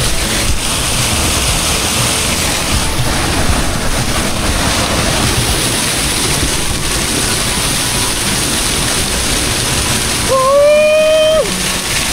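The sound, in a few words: waterfall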